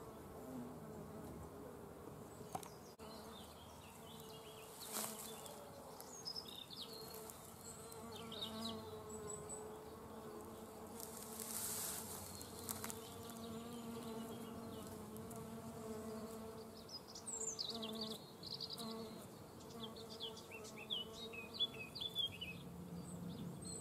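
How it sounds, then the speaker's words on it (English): A small nomada cuckoo bee buzzes close by as it drinks nectar from spring flowers, in soft intermittent bursts over a quiet outdoor background with faint birdsong. "There's a little nomada cuckoo bee."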